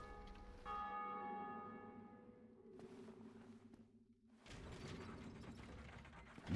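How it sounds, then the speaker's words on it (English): A bell struck in the Dark Souls video game rings out with a long, resonant, slowly decaying metallic tone, followed by mechanical gear and ratchet clanking, then a heavier rumble, with no talking. "someone bonged a bell"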